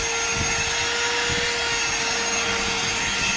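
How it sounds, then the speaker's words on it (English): A handheld vacuum cleaner runs steadily over car floor mats, a constant close whine with a tonal hum and faint bumps as the nozzle moves across the mat surface. "get a handheld vacuum and just run it over the top of the floor mats to get all the loose dirt and mud and everything"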